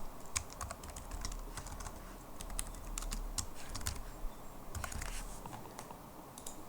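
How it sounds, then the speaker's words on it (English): Computer keyboard typing nearby, a quick irregular run of clicking keystrokes, fairly quiet and continuing throughout with no talk over it. "Now what I could do is type in my text."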